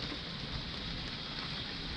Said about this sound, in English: It's rain, gusting wind.